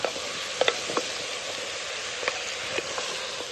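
Bitter gourd (karela) fries and sizzles in a pan as it is stirred, a steady hiss with scattered spoon clicks and crackles; no one speaks.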